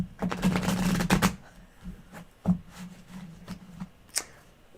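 Tarot cards being shuffled by hand during a tarot reading, a dense riffling burst in the first second and a half followed by scattered softer card taps and flicks, fairly close and quiet.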